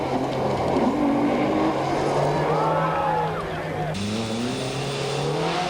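A 1989 rally car in the Tour de Valvoline races through a tight stage course, its engine droning steadily and loudly with rising revving tones and tyre noise, a shift in pitch partway through.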